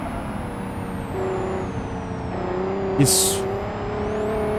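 A car engine drones in BeamNG.drive, a McLaren or Nissan GT-R racing against water, holding a steady tone that rises slightly as it accelerates, with a brief sharp hiss or thump near the middle and a short spoken word.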